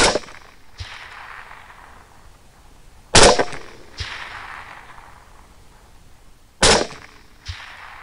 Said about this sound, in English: I put more shots into him,